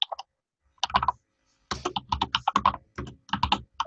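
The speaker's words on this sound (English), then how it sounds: "Sorry, if somebody's typing" Someone types on a computer keyboard in fast clusters of crisp, close key clicks. The bursts are separated by brief pauses and near-silent gaps.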